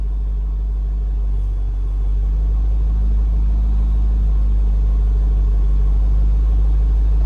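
A 2007 Shelby GT engine with a new tune rumbles loud and close, holding a steady idle then building only gently in a slow rev, with no voices over it.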